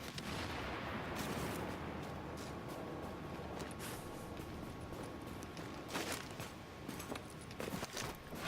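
Gunfire from a hostile turret in The Division, a dense, continuous barrage of shots and impacts over game noise, with sharper bursts near the end.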